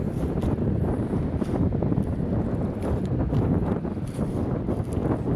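Strong amihan monsoon wind roars and buffets the microphone in a loud, continuous low rumble at sea, with no one talking.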